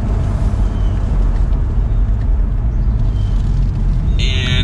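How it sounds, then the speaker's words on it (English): A 2022 BMW M440i Convertible with the M Sport package, its exhaust a steady, fairly subdued rumble mixed with road and wind noise while driving, continuous throughout. "The exhaust is not all that loud, which is nice."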